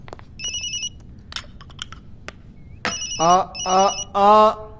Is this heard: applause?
no